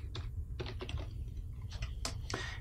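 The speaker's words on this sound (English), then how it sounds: "you just type in the name of the computer" Computer keyboard keys are typed in quick bursts of clicks while entering a computer name, close and fairly crisp over a low steady hum, with pauses between short runs of keystrokes.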